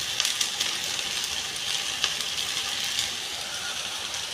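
Cabbage sautéing in a hot pan for a Marathi-style cabbage bhaji, giving a steady broadband sizzle with faint stirring clicks throughout, fairly close and even in level.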